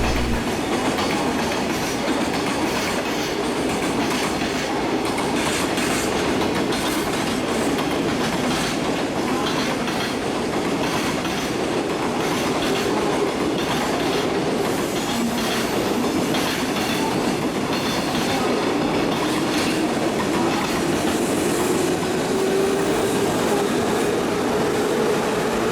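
Trains rumble past continuously at 5 a.m. in Japan with steady rail clatter and wheel noise, a faint squeal rising near the end; no voices.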